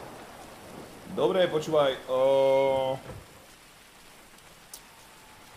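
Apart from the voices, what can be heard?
rain falling in video game GTA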